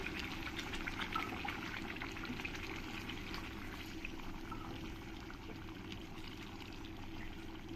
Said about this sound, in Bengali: এবার আমি চিকেনের মধ্যে জল দিয়ে দেব আমি ওই চিকেনে গরম জল করে দেব ঠান্ডা জলটা দেব না